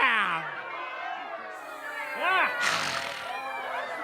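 Audience members at a spiritual gathering imitate cats, scattered rising and falling meows overlapping one another amid crowd chatter and laughter in a room.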